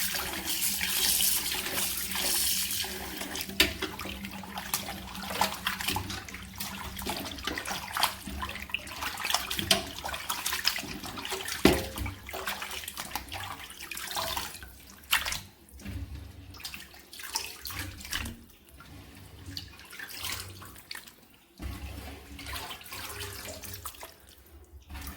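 Kitchen tap water runs steadily into a sink while raw chicken is washed, a continuous close splashing rush with small shifts in flow and no speech.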